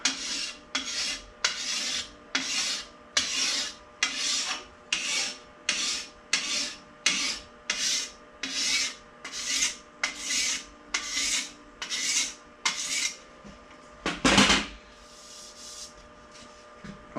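Stainless steel trim from an old car being filed with light pressure, a steady rhythmic rasp of about twenty close strokes with one heavier stroke near the end, no talking.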